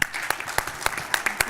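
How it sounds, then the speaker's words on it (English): An audience claps for the speakers at the end of a creative technology panel talk, a burst of scattered individual claps close by with some chatter mixed in. "Let's hear it right now for Chris, Kristen, and Shauna"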